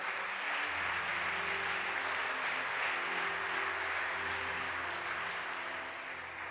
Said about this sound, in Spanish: dele un aplauso al Espíritu Santo.